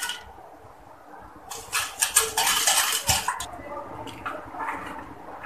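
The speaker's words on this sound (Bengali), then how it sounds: "এখন আমি একটা চামচের সাহায্যে এটাকে ভালো করে মিশিয়ে নেব।" A spoon stirring agar agar powder in a bowl, with light clinks and scraping that come in a busy cluster midway, then taper into softer, scattered taps.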